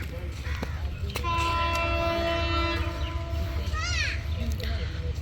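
A train on a Bangladeshi commuter line approaches Narsingdi's number two platform, sounding a long sustained horn and then a shorter one over station crowd noise and nearby voices.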